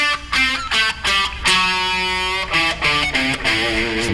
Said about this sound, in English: if you do the full pentatonic scale with the Dorian note